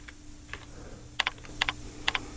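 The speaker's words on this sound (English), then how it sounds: "but just type in the number." Keys tapped on a computer keyboard as a number is entered, a few sparse clicks early, then three quick pairs of crisp, close keystrokes over a quiet background hum.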